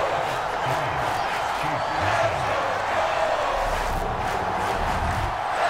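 A large stadium crowd at an NFL game between the Chiefs and Colts murmurs and cheers in a steady roar after an opening-drive field goal, with a commentator talking over the noise.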